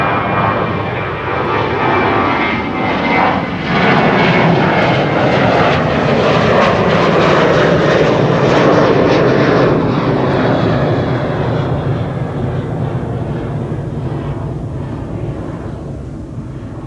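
An airliner departs Schiphol's runway 24, the Kaagbaan, its engines a loud, broad roar that swells and holds, then slowly fades as the aircraft climbs away into the distance.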